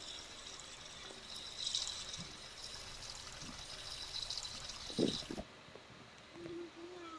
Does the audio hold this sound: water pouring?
yes